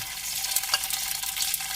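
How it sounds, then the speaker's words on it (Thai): Red curry paste frying in oil in a pan over medium heat, the start of a spicy stir-fried beef with bamboo shoots; a steady, close sizzle with fine crackling throughout, no voices. "ตั้งกระทะไฟกลางนะคะ แล้วก็ใส่น้ำมันลงไปค่ะ ตามด้วย พริกแกงค่ะ"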